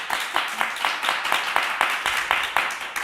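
Clapping from a television game show studio audience, a steady run of hand claps close and fairly loud, with no talk over it.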